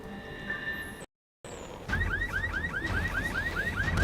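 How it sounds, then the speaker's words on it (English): A car alarm going off in the video game The Secret World, a rapid repeating rising electronic whoop that starts after a brief gap, steady and loud over game ambience. "now we can jump on cars to set off their alarms"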